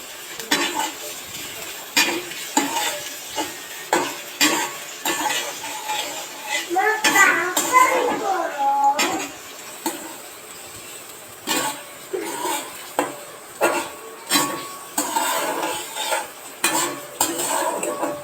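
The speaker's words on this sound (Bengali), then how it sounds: "পেঁয়াজ, রসুন, মরিচ কুচিগুলিকে সুন্দর করে ভেজে নিব" Chopped onion, garlic and green chili frying in a pan for tomato bhorta, with repeated metal stirring clicks and scrapes over a steady sizzle, a burst of louder frying in the middle, and faint speech in the background.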